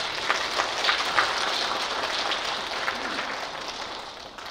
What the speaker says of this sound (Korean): 수녀님 큰 박수로 모시겠습니다